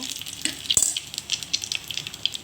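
Whole garam masala fries in hot oil while being stirred, a crackly sizzle dotted with sharp pops and a clink of the utensil, fairly close and alone.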